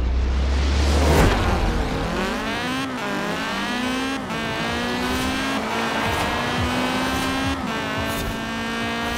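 A car races along a road in Forza Horizon 4, its engine roaring loudly and steadily with rising pitch sweeps through gear shifts and a brief tire squeal early on.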